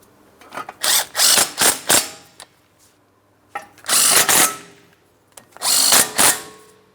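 A power tool snugging 10mm mounting bolts on a wheel speed sensor backing plate of a 2008-2016 Chrysler Town & Country, three short bursts of whirring and ratcheting separated by pauses, close and loud.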